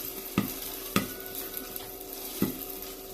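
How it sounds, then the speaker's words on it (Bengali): Popcorn popping in a pan on a home stove: a few sharp, irregular pops stand out over a steady frying hiss, with no voices. "ফাটছে কেমন দেখো"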